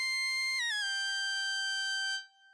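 A bright, hard synth lead accent called 'Nasty Fifth' from the Expand hard-lead presets, holding a buzzy sustained tone that bends down into a lower held note before cutting off, alone with no talk.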